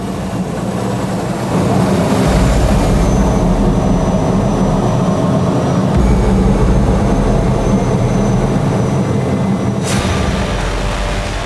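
A T-80 tank engine roars loudly and continuously, a deep rumbling drone that surges in intensity, with no voices.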